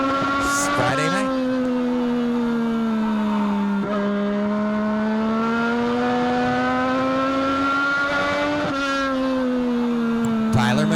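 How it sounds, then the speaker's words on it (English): Legends race cars running laps around Meridian Speedway on a Friday night, engines droning steadily with rising and falling pitch as they circle, a second car sweeping by near the end, under trackside commentary. "Ashley, Dylan Wardle, Ryan Phipps, lead lap cars trying to make their way around the high line"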